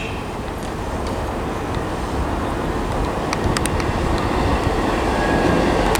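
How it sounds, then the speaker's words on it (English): A two-carriage diesel passenger train arrives at Southampton Central station, a steady, loud rolling rumble that builds slightly toward the end, with brief high wheel squeals and clicks partway through. "approaching as well is the 12:37 service to Salisbury from Romsey, coming from the other direction"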